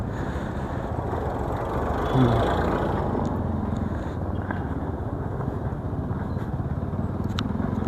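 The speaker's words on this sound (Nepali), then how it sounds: "ट्र्याक्टर फेरि आइदियो।" A tractor engine rumbles past on a narrow lane, a loud low drone that swells and then holds steady, heard close with some faint voices around it.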